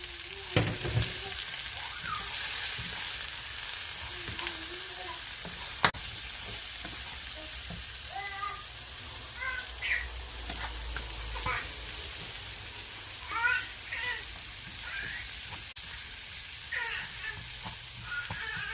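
Onions frying in a pan for chicken choukouya: a continuous close sizzle with occasional stirring clatter and scraping, steady for the whole stretch, with no talking.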